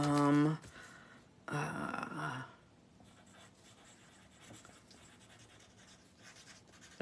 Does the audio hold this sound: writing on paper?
yes